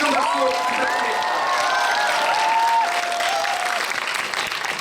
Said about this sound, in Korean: 박찬호 감독님 큰 박수 부탁드립니다